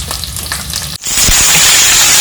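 Seedless dates frying in ghee, starting from a quieter stretch of handling noise, then a sudden loud, steady sizzle that carries on close by after a brief pause.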